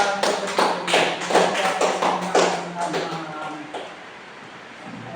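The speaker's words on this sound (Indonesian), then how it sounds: "Kita kasih aplaus kepada" Audience applause at an Islamic gathering, a burst of claps rising quickly and then thinning out to scattered taps before fading, moderately loud and close.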